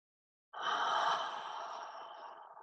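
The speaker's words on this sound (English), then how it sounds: "you can take some deep cleansing breaths" A single deep cleansing breath taken during a calming guided exercise, a long airy exhale that starts abruptly and fades slowly, close and fairly loud, with nothing else heard.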